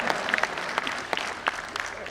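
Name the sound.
audience clapping at a comedy poetry event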